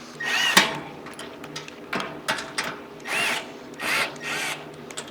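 A power drill whirs in several short bursts, spinning up and stopping between screws, with clanks and handling noise in a workshop.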